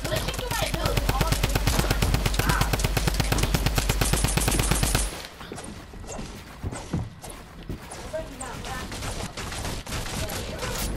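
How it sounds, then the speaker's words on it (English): Tommy gun fire in Fortnite, a long, loud, evenly spaced burst of rapid shots that stops abruptly, followed by scattered clanks and rougher game noise with some talk. "I have to reload my Tommy gun."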